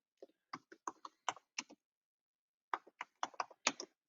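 A computer keyboard clatters in two quick bursts of close, crisp keystrokes separated by a short pause while an event title is typed in.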